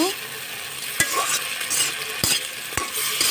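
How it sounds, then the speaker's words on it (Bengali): Yardlong beans sizzle steadily in a pan with salt, with a few sharp scrapes and knocks as they are stirred nearby. "তো বরবটিগুলো ভালোভাবে ভাজা হচ্ছে।"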